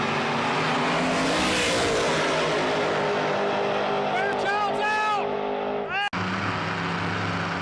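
Drag race cars roar at a True Street finals event, with a loud sustained engine drone and rising revs that keep going as they launch, while a commentator talks over the noise.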